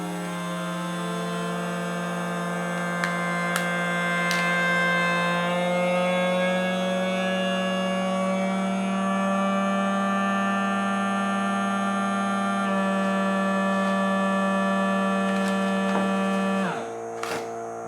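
A Fresko automatic vacuum sealer sealing a bag holding an egg hums steadily and electrically for about sixteen seconds, with a few faint clicks, then stops with a short click.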